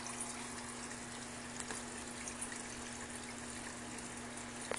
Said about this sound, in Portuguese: Agora ela está jogando água no dispenser para sabão.